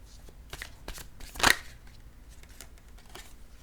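Oracle cards are shuffled and drawn by hand, making soft scattered flicks and taps with one sharper riffle in the middle, close and quiet.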